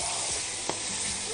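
Onions sizzle in a frying pan with a steady bright hiss as they are stirred with a ladle, one sharp scrape of the utensil cutting through midway.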